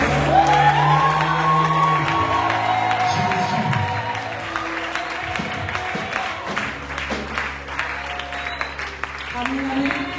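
A church congregation at a night vigil of the Cité de Gloire assembly cheers and applauds loudly and steadily, whoops rising over continuous clapping, with a voice talking through it and music tones underneath.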